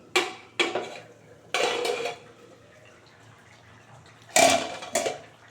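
A pot of cauliflower and potato curry is uncovered and stirred, several sharp metallic clanks of the lid and spoon against the pot in separate bursts, close and fairly loud, with quiet pauses between.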